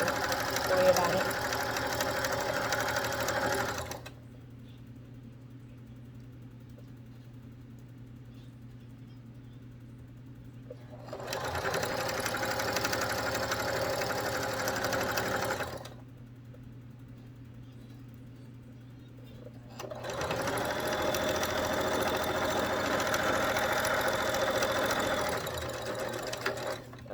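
Sewing a fabric gift bag seam, the machine runs in three long steady stretches separated by quiet gaps with a low background hum, while a person talks.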